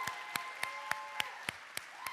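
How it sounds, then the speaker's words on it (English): Steady, evenly spaced claps, about eight in a row, ring out over a sustained tonal hum as the audience applauds the writers at a senior creative writing reading. "one more round of applause for the writers tonight"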